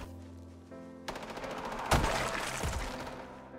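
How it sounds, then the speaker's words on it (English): Machine gun fire in Project Zomboid, a sudden sustained burst of rapid rat-a-tat shots that follows a quieter stretch, with a sharp louder crack midway and the volley continuing to the end. "In the near distance, a machine gun rat-a-tat-tats."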